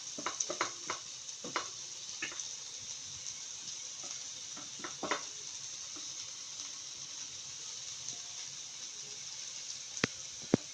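Onions frying with salt in a pan give a steady soft sizzle, broken by scattered light clicks and stirring scrapes and a sharper tap near the end, with no voices.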